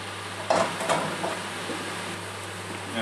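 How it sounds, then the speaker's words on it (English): Button mushrooms hit a hot pan with a brief burst of sizzling and stirring scrapes, then settle into a soft, steady fry over a low constant hum. "And now I add my button mushrooms."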